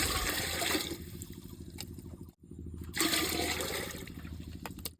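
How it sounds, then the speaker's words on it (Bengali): Water is poured into a new clay pot, a loud gushing splash in two bursts separated by a short pause, with faint clinks over it and no voices. "জল দিছি, জলটা হান্ডির মধ্যে দিয়ে দিব।"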